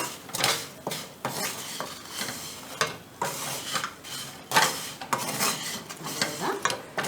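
A spoon scrapes and stirs a thick wheat-flour biscuit mixture in a pan with the stove switched off. The scraping comes in repeated irregular strokes, close and fairly loud, with metallic clinks against the pan and no talking.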